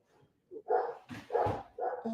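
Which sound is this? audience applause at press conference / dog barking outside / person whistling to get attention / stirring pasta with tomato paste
dog barking outside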